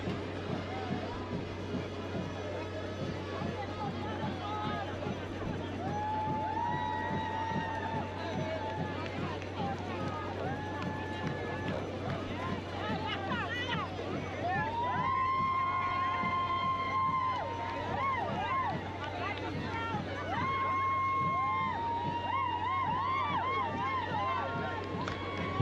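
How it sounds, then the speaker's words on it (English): A crowd lining a military parade route in Trinidad and Tobago cheers and calls out in steady waves, heard from within the crowd with rhythmic marching footsteps and a low continuous hum underneath. "Now you can hear the excitement and the cheers from the crowd."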